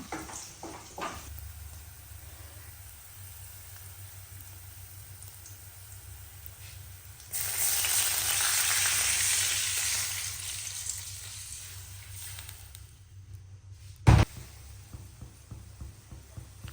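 Steady sizzle of garlic and slit green chilli frying in a pan, swelling into a louder hissing burst midway, with a sharp clank near the end.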